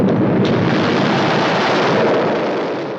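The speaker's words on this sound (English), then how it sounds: "which causes the conscience of Marinus to explode" A loud, rumbling explosion sound effect from classic Doctor Who, a dense roaring blast that holds steady for a few seconds before slowly fading.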